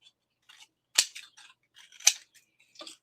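Scissors trimming cardstock for a handmade card, a series of crisp, close snips in irregular bursts, with two louder sharp cuts.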